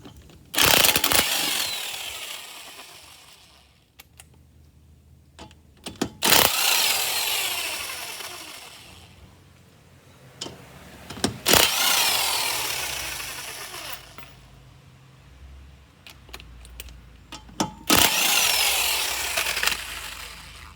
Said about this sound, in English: Now we're taking the lug nuts off.